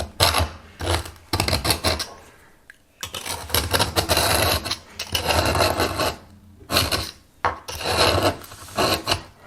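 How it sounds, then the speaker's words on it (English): A screwdriver scrapes sideways during home renovation work, giving loud, close, rasping bursts in uneven strokes separated by short pauses. "I put the screwdriver in and I kind of turn it a little. I don't put a lot of pressure, but I just scrape it sideways"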